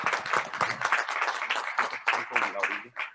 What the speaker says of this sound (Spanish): Pues vamos a darles un aplauso por esta excelente exposición.